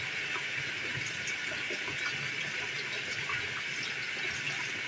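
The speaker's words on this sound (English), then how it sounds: "Just letting the water run a little bit." Tap water runs steadily at a kitchen sink while cooking chili, a constant close hiss and splash with no pauses and no talking.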